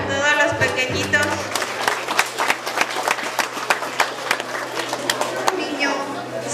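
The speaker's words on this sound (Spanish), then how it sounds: "Fuerte el aplauso para todos los pequeñitos" Applause for small children at a kindergarten closing ceremony in Ameyaltepec, Guerrero, a crowd clapping steadily with sharp individual claps, voices and chatter running underneath, a low steady hum throughout.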